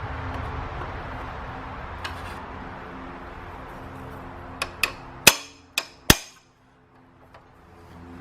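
A metal punch strikes a VW ALH TDI diesel camshaft sprocket several times, sharp metallic clanks coming in a quick irregular run, with a quieter tap before them.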